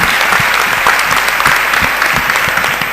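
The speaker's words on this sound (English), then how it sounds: "I ask you a big applause for the 4 panelists." An audience applauds a panel of four at a conference, with steady, dense clapping filling the whole stretch at full loudness.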